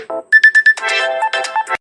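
A mobile phone ringtone for an incoming call plays alone and loud, a melodic electronic tune of short repeated beeps followed by a sustained chiming phrase.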